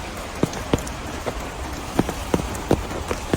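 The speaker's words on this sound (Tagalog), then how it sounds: "Ulan kasi mga idol." Steady rain patters over a soft hiss by a river, with scattered sharper drips and taps landing irregularly nearby.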